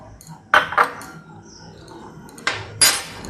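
Potatoes and then peas go into a bowl while making aloo kabli, heard as a few sharp clinks and clatters against the dish with quiet pauses between them.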